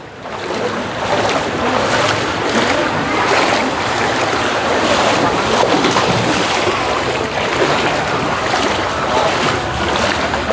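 Rising floodwater rushes through a village street during rain, making a steady, loud broadband roar and wash that stays constant without pause.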